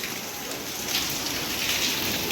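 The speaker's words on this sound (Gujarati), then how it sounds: "હજી વરસાદ ચાલુ થઈ ગયો આપણે બાઇક ઢોકી દીધી" A continuous rain shower patters steadily on surfaces outdoors near a parked motorbike. It makes an even, close wash of drops with slight swells in intensity and no voices.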